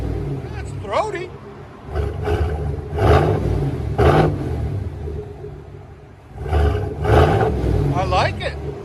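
A Chevy Silverado 5.3L V8 with a Borla exhaust, heard from inside the cab, gives a deep, throaty rumble that swells in several revving bursts, with people talking over it.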